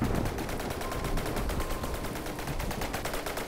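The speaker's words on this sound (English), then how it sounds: "It's got a couple of reasonable rounds firing at us." Cannon fire from naval combat in the From the Depths video game, a rapid dense rattle of distant shots and impacts running continuously at moderate level with no clear speech.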